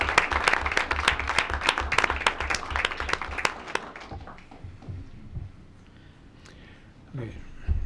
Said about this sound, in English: could we get a round of applause?